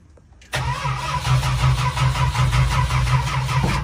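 A big block Mopar V8 fitted with Holley Sniper EFI cranks and fires after half a second of near silence, then settles into a loud, steady, lumpy idle up close.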